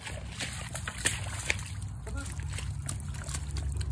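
A dog splashes through water outdoors with light sloshing and a couple of sharp splash peaks over a steady low rumble; voices are faintly present.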